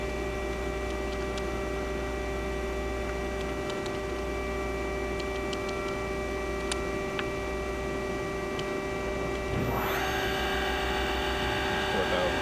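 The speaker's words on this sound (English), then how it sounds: "We're going to run the spindle." The spindle of a Mori NH4000DCG CNC machining centre, a Cat 40 spindle rated to 14,000 RPM, hums steadily with faint ticks, then spins up near the end into a rising whine over the constant machine-shop drone.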